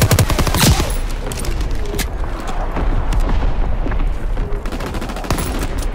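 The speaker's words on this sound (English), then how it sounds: "Firing division artillery." Heavy gunfire and booming explosions from a World War II battle in Call of Duty WWII, a loud, continuous barrage of overlapping shots and blasts with no pauses.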